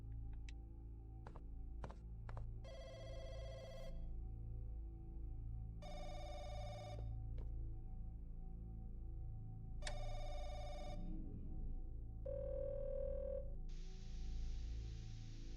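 A public telephone rings in repeated bursts of electronic trilling separated by pauses, with a few clicks and low background hum, then a hiss at the end.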